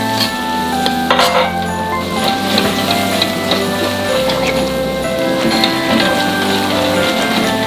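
Garlic hits 100 grams of melted butter in a hot pan, giving a loud, steady crackling sizzle with sharp pops and spits throughout, with occasional clinks of utensils and a voice talking over it.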